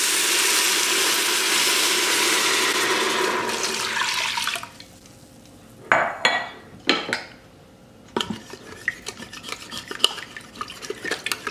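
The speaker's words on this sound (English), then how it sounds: "I have 3 cups of beef broth that I'll pour in. Once I pour it in, then I'll scrape the bottom again." Beef broth rushes loudly into an Instant Pot for several seconds, followed by a quieter stretch of intermittent scraping and clinking against the pot's bottom.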